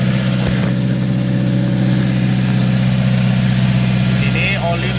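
A car engine idles steadily up close, with an oil leak and a radiator being checked, its low, even rumble running without a break under a voice.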